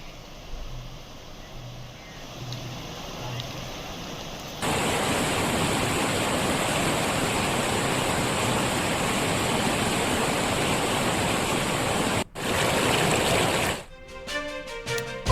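A flooding river in Jalore, Rajasthan, flowing toward Rajsamand lake, roars with loud, steady rushing water that starts abruptly, holds for several seconds, breaks off briefly and returns.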